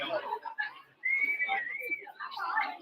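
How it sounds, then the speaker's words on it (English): A single person in an audience whistles a clear sustained tone that slides and wavers for about a second, surrounded by a noisy crowd of voices chattering and calling out. "I hear one whistle in the back"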